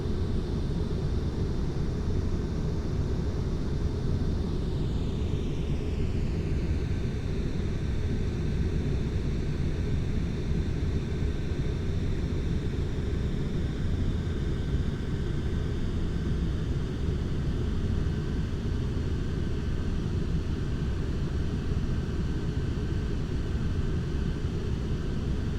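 A Boeing 747 in the FSX flight simulator game hums steadily with engines at idle, a constant broadband roar with a faint whine that bends downward early on, no voices.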